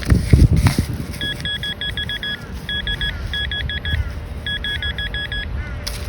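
A metal detector sweeps during a scan in a park, emitting repeated bursts of short, high electronic beeps in quick groups, over a low background rumble and a brief handling thump at the start.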